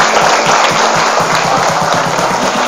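Dense applause from a large audience at a motivational seminar for Islamic boarding school students, a steady loud wash of clapping lasting throughout, with a faint voice underneath.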